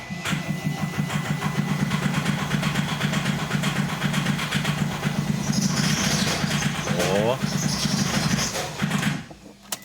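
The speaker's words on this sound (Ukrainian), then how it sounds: "Запустити двигун." An Opel Frontera diesel engine with a starting fault cranks and catches, then runs with a steady low chugging idle before cutting out near the end; a brief exclamation is heard.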